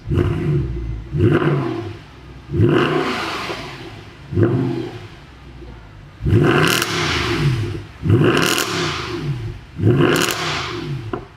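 A Mercedes C63 W204 on its stock exhaust is revved repeatedly, about seven sharp throttle blips that climb and fall back to idle, loud and close with no talking.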